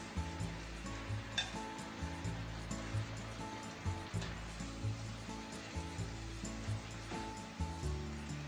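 Pork kimchi udon noodles stir-fried in a frying pan, a steady sizzle under rhythmic scraping and tossing of a utensil against the pan, close and continuous with no voices.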